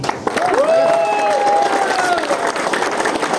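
Loud, dense audience applause at a motivational lifestyle seminar in Panchkula, sustained for the whole stretch with a bright tonal sweep ringing over the clapping partway through.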